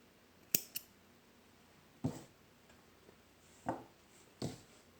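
Small snips cut crochet yarn at a color change while a hexagon is being made, giving five quiet, sharp snipping clicks spaced irregularly against near silence.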